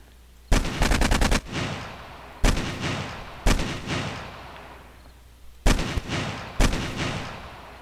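Gunfire from a weapon in the video game 7 Days To Die, loud close bursts of rapid shots in several separate volleys, each with a decaying echo tail, no talk.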